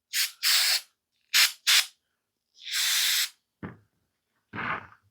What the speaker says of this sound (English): I'm going to just give them a good squirt with some parts cleaner here